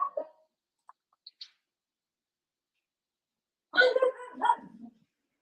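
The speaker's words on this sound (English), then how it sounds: "You can hear the dog." A pet dog barks at home in a kitchen, a few faint distant yips early on, then a louder burst of several barks near the end, with long quiet gaps between.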